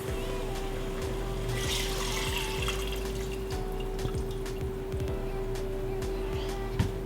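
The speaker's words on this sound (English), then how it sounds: "I'm gonna add the coconut water." Coconut water pours into a pot of pork belly simmering for a Cambodian caramelized braise, giving a steady liquid pour and trickle with faint drips over a low constant hum, close and moderately loud, no talking.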